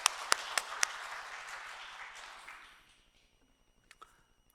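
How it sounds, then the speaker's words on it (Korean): Congregation at a Sunday afternoon church service applauding a deacon, a brief burst of group clapping with a few sharp near claps that fades out after about three seconds, followed by a few scattered taps. "우리 7집사님에게 박수 한번 드리도록 하겠습니다."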